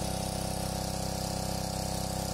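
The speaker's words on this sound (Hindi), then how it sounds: "होंडा का पंप है तो बहुत ही अच्छा है" A Honda WB-15X 1.5 hp petrol water pump engine runs steadily on a farm, a loud, even, fast mechanical drone with no change in pace and no talking.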